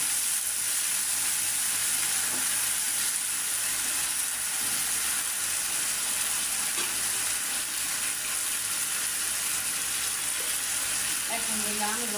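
A blended paste of ginger, garlic, peanuts, green chillies and onion sautés in a hot pan for egg bhuna. A loud, continuous close-up sizzle runs for about twelve seconds, with faint stirring underneath and no talk.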